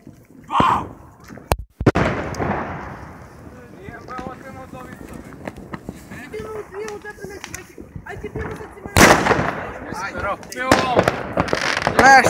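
Firecrackers and fireworks crack and burst outdoors at a New Year's celebration, a few loud bangs spaced apart, heard under excited chatter and wind buffeting the microphone.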